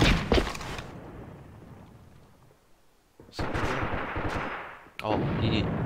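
A grenade goes off in the online shooter AVA: a loud broadband blast hits near the start and decays into rumble, followed by further heavy booming bursts and gunfire later on.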